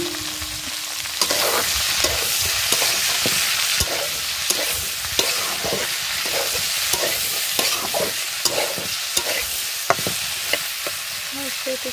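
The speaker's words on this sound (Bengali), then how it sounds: "এখন হলো ভেন্ডি ভাজি করবো। তেল দিয়ে দিছি কড়াইতে, তেলটাও গরম হয়ে গেছে।" Okra frying in hot oil in a wok while being stirred, with a steady sizzle and repeated scraping strokes of the spatula, close and loud throughout.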